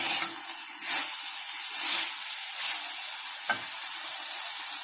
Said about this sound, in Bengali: চিনিটা দিয়ে আমি ভালো করে মিশিয়ে দেবো।